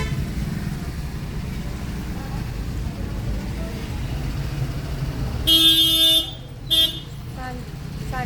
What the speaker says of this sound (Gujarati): બાકોરના બજારમાં ટ્રાફિક છે જો.